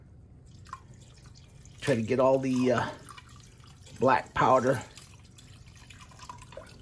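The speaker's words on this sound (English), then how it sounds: "then I'm gonna rinse it off as before" Tap water rinses and drips off a reverse plating cell part in a lab, coating it with black powder residue, a faint steady trickle running beneath two bursts of close speech.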